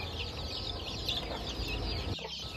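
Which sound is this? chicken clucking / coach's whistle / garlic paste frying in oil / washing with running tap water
chicken clucking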